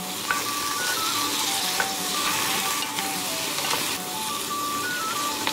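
Seafood curry ingredients sizzle steadily in a small camping pot while being stir-fried, with occasional scraping clinks of a utensil, close and continuous with no talking.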